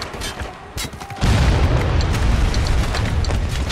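A mortar round exploding in Spec Ops: The Line: a loud, deep boom hits after a second of small clatter. It rolls into a sustained rumbling roar that fills the rest of the moment.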